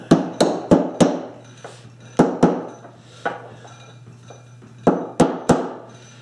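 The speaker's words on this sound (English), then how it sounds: "I guess we can use a hammer." Hammer tapping parts of a homemade inertia sander, sharp metallic strikes coming in short bursts of two to four taps with pauses between, close by against a faint steady hum.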